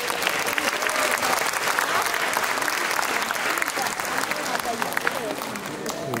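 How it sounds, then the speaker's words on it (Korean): A crowd at a multicultural migrant music festival's award ceremony in Korea greets the award presenters with full, sustained applause, many hands clapping densely with faint crowd voices mixed in throughout. "따뜻한 박수로 맞이해 주십시오."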